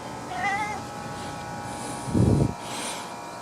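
A cat gives a couple of short meows close by, with a low thump in between and quiet surroundings.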